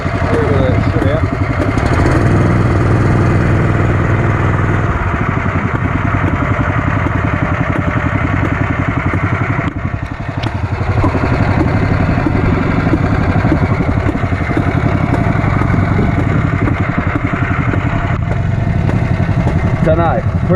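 Engine on a Super Max gold prospecting machine throttled up, a loud, steady mid-range motor drone running continuously close by, with a brief dip around the middle before it settles back to full running.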